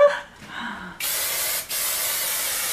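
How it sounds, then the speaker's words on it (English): Hairspray from an aerosol can hisses onto styled hair in two sustained bursts separated by a brief pause, loud and close. "And then I spray a lot of hairspray to hold it like a helmet"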